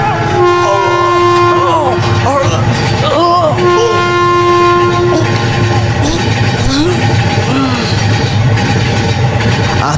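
A train sound effect: loud, steady rumble of a passing train with a sustained horn blaring in long tones, continuous for the whole stretch and up close.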